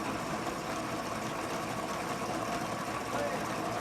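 A mechanized grinder pulverising mud into fine powder for washing, a steady dense mechanical whir and rumble that holds constant and loud for the whole stretch.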